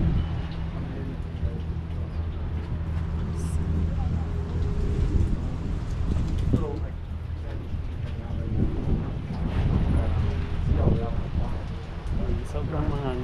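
Strong gusty wind roars continuously during a storm at a shed in San Diego, a heavy low rumble of wind noise buffeting the microphone throughout, with people talking underneath.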